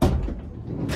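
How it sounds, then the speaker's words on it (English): A vehicle door, being soundproofed with SilentCoat insulation, swung open and shut in one brief, close, solid thud and rattle. "Stop playing with the door, Matthew."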